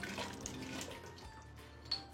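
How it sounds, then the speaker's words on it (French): Tap water runs into a soup pot, a steady soft splashing pour that stays quiet throughout, with no talk over it. "Tu rajoutes de l'eau. De l'eau du robinet, là?"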